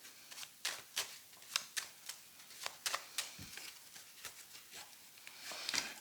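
Tarot cards are handled and laid out on a table, with soft irregular flicks, slides and taps of card stock, faint and close, with no talk.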